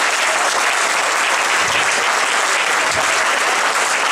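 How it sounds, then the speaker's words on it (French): A festival audience claps steadily and loudly for a few seconds, dense and even, with no speech over it. "vous méritez tous les applaudissements encore fournis du public"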